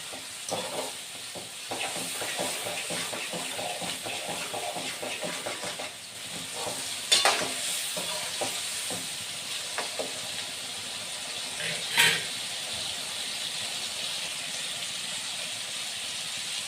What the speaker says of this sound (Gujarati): લસણ, ડુંગળી ને ટમેટા બરાબર સતળાઈ ગયા છે.